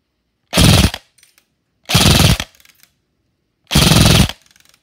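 Three loud, close bursts of full-auto airsoft fire, each lasting about half a second with evenly spaced gaps, shot through an Acetech 6000 Bluetooth chronograph from a gun running an 11.1 LiPo battery. No voices.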